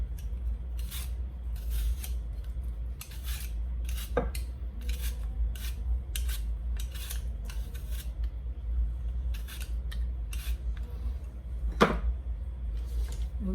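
A vegetable peeler scrapes repeatedly along a vegetable in a kitchen, giving a steady run of short rasping strokes at a quick, uneven rhythm, close and fairly quiet, with a couple of sharper knocks; no talking.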